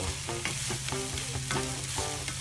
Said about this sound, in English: getting everything all fried up here